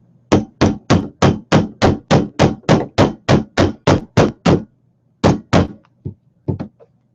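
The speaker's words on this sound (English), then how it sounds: "I might like working with a hammer, though." A hammer strikes an eyelet setter into a travelers notebook cover: about a dozen sharp, evenly spaced blows in a quick run, then a pause and a few lighter, scattered taps, loud and close.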